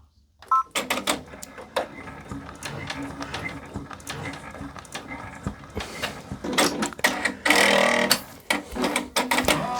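An embroidery machine stitches out a St. Patrick's Day design, its needle making rapid rhythmic tapping and clattering up close, with bursts of denser mechanical whirring partway through.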